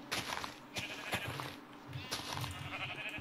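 Sheep bleat in a video game, several short calls spread across a few seconds over a busy backdrop of game sounds, fairly close and moderately loud.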